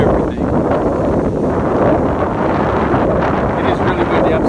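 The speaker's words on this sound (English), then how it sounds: "It is really windy. I'm sorry, it's probably not going to be great sound quality on this thing" Strong wind buffets the microphone on the Kure Beach pier, a loud, constant low rumble and roar that fills the whole stretch without pause.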